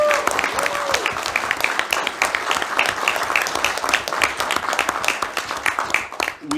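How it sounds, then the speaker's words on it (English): Sustained applause from a conference audience at a GameDev Atlantic 2024 panel, dense steady clapping filling the room for several seconds before fading at the end. "please give a big round of applause to everybody"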